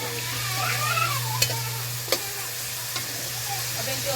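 Squash simmering in a pan as coconut milk is added, with a steady sizzle, a low constant hum and a few sharp clacks of a spoon stirring, close up and without speech.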